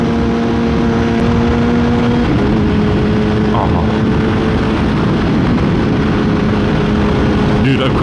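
A motorcycle engine drones loudly and continuously while riding, its steady tone shifting in pitch midway as the bike changes speed.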